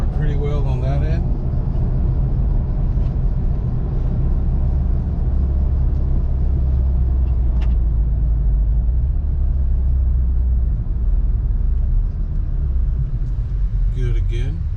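Cabin rumble of a third-generation Toyota Tacoma fitted with a new FishBone OffRoad rear bumper, crawling in traffic; a continuous low engine and road drone fills the clip, with brief voice-like sounds at the start and end.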